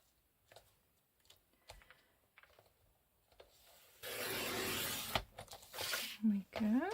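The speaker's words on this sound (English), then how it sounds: "this should be dry enough now for me to use my trimmer to get a nice straight journaling card" A paper trimmer slices a straight edge off a journaling card in one loud, scraping cut of about two seconds, followed by brief rustles of the card being handled; soft handling noises and quiet talk come before it.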